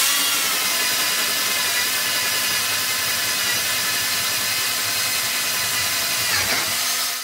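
A power drill with a 5/8 inch bit bores steadily through wood, a continuous loud whirring grind that holds for several seconds, with a brief shift in load near the end.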